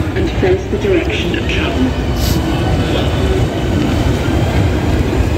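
A train rumbles and rattles through Waterloo Underground station in London, a loud continuous roar with wheel noise and faint squeals, busy ambient clatter all around.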